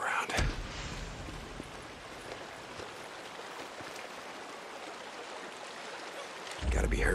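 Creek water flows in the Days Gone video game, a steady close rushing wash. A couple of sharper thumps come at the start and end.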